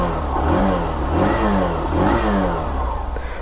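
A Hero Super Splendor Xtec motorcycle engine revs up and down in several rising, falling throttle blips over a steady idle, close and fairly loud.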